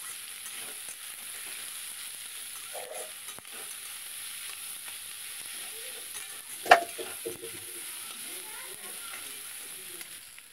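Chicken pieces for chilli chicken fry in oil with a steady, low sizzle throughout, broken by one sharp clatter near the middle as the pan or utensil is knocked, followed by brief stirring sounds.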